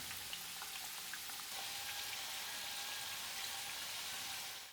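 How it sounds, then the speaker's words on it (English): Steady, dense sizzling of sweet potato pieces deep frying in hot oil, a continuous crackling hiss that holds at an even level throughout. "deep frying adds caramel flavor and makes the exterior crispy"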